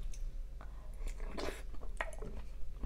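Someone chews mango sticky rice made with coconut milk, soft close bites and wet mouth sounds in an irregular rhythm, quiet and without talk.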